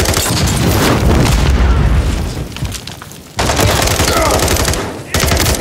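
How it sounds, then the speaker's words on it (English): Dense gunfire in the Call of Duty: Modern Warfare 3 campaign: rapid automatic bursts and booming shots crowd together loudly, with a brief lull partway through before more firing. "Contact! I've got Makarov! Return fire!"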